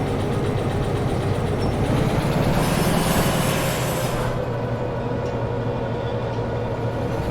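A locomotive in the train simulation game Derail Valley runs with a steady, low engine drone and rolling rail noise, and a brighter hiss swells in the middle before fading back to the even rumble.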